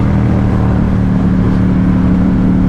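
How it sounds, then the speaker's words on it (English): Ducati Diavel 1260 motorcycle with a Termi exhaust, its engine holding a loud, steady deep rumble close by with no pauses, alone without talk. "It's got this lovely sort of deep, throaty rumble to it, and it just has that signature Ducati sound."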